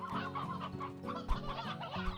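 Chickens cluck continuously in a video game farm scene, a dense, busy chorus of many birds with overlapping calls and no talk.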